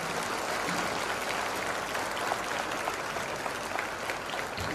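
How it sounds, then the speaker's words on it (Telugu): An audience claps for a teacher at a gathering, a steady, fairly faint wash of many hands heard from a distance with no talking. "మనందరికీ కళ్ళు తెరిపించినటువంటి మరి గురువు గారికి కూడా మనం చప్పట్లు కొట్టాలా వద్దా?"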